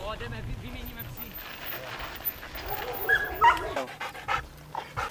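Sled dogs at a summer mushing camp pant and whimper close by, with occasional yips and shuffling, while children and adults chatter in the background.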